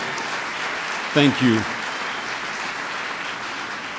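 Steady audience applause at an award ceremony honoring two honorees, a dense, even wash of clapping with a voice briefly speaking over it partway through.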